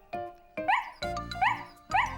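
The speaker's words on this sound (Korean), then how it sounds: "그때 스누피가 나타나 꼬리를 흔들고 팔짝팔짝 뛰며 짖었어요" A cartoon dog barks in a kids' animated show, four lively yelping barks spaced about half a second apart, each with a rising whiny tail, close and clear with no talk.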